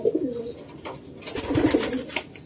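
A racing pigeon, just home from an overnight race, gives soft, close coos over low, breathy rustling, with a couple of brief louder bursts toward the middle.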